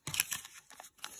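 Peeling a sticker while making a minimal weekly planner: a few short, close tearing and crinkling bursts of paper, separated by brief pauses, quiet and alone.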